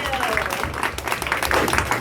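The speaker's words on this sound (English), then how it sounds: "All right, ladies, give yourselves a round of applause." A short burst of audience clapping at a motivational success event for women, busy and fairly close, with a person talking over the applause.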